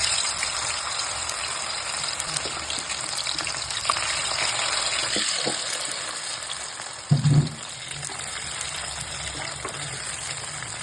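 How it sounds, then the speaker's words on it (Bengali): Soybean chunks deep-fry in a pan of hot oil, giving a steady, dense sizzle throughout with one brief louder clunk partway through; no voices. "তেলে এক এক করে ছেড়ে ডিপ ফ্রাই করে তুলে নিতে হবে"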